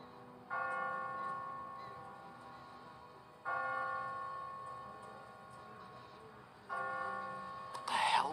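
A church bell tolls from a bell tower in a Walking Dead video game scene, three slow, ringing strikes that each hang and fade, heard alone at moderate distance.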